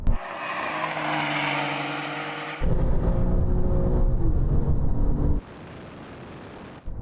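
Alfa Romeo Giulia GTA and Giulia Quadrifoglio racing from 50 km/h in second gear, loud engines roaring hard under acceleration with a sharp shift in tone midway, then dropping to a quieter drone.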